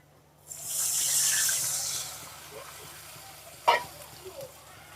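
Water poured into a pan of browned, chopped onion and garlic sets off a loud burst of sizzling that fades over about a second, followed by a short clink and quieter frying.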